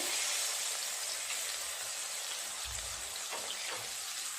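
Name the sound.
frying pointed gourd in oil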